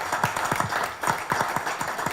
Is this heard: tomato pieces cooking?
no